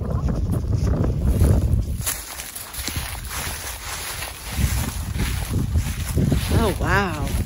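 Strong wind buffets the microphone in a steady rough roar, easing briefly midway, with people talking underneath.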